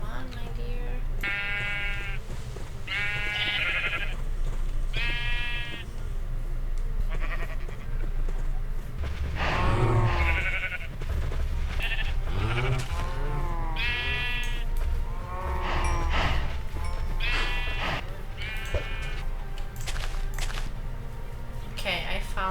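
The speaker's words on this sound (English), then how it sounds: "Okay, I found 4 sheep, but they're brown." Sheep bleat repeatedly in the Fatebound video game, several short wavering calls spread across the scene, close and clear, mixed with players chatting throughout.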